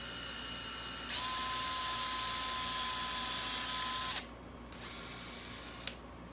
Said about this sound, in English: I'm gonna take my drill and very carefully drill myself a hole.